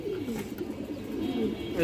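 Domestic pigeons, including a silver male and a high-quality female, give low rolling coos in a continuous close murmur, with a person talking faintly underneath.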